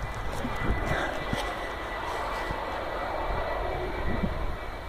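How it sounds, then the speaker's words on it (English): Airplane climbing away from the end of the Gatwick airport runway, a steady broadband engine roar heard from outdoors, continuous and fairly loud throughout with slight swells. "Oh, look, you can see a"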